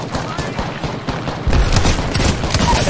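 Rapid bursts of gunfire in a competitive Apex Legends battle royale match, loud and continuous, growing heavier halfway through, with voices talking over the shooting.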